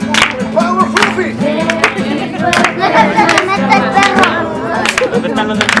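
A crowd claps a steady beat along with loud worship singing and music at an outdoor bonfire gathering, the sharp rhythmic hand claps running throughout under the voices.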